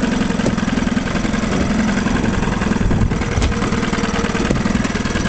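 A 1956 Johnson Javelin 30HP outboard motor on a 14-foot Viking fiberglass runabout runs at a steady idle, a close, buzzing putter with a low rumbling undertone that holds throughout.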